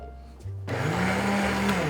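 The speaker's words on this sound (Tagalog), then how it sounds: "blender ko na din." An electric blender switches on abruptly for a beef rendang recipe, settling into a loud, steady motor whir with a slight rise in pitch, alone without talk.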